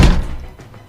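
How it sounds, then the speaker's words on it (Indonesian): A room door slams shut hard, one loud heavy thud at the start that quickly decays into a low rumbling tail, with no voices. "tiba-tiba pintu ruangan tertutup dengan kerasnya seperti dibanting."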